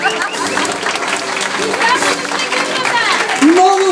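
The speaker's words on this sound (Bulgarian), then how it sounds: "още веднъж много силни аплодисменти за свекървата" Guests at a Bulgarian wedding celebration applaud the mother-in-law with loud, lively clapping and crowd noise close by, mixed with voices and a faint musical tone throughout.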